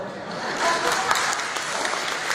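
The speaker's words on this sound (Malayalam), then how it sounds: "The clap from the men is not that strong" Men in a crowd at a political convention clap steadily, a dense, fairly even applause that stays continuous from start to end without much swell.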